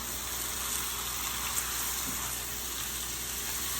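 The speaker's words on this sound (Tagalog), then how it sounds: "Gisa muna natin ang ating beef." Ribeye beef sautés in a pan, a faint, steady sizzle with soft crackle throughout, heard close and alone.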